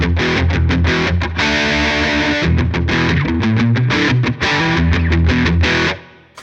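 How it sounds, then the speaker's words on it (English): Heavily distorted electric guitar from a Line 6 HD500X rig plays a fast, chugging run of palm-muted chords and riffs, loud and continuous, then rings out and fades at the end. "Got my distortion tone."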